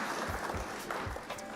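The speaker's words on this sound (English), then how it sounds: "round of applause for opponent" A short burst of clapping from a small group at a Flesh and Blood trading card game match, moderately faint with a steady patter of hands.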